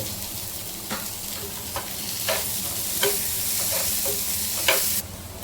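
Chopped onion and tomato sizzle steadily in oil on a flat tawa for prawn fry, with a constant hiss broken by scraping stirs roughly every second, close and fairly loud, and no voices.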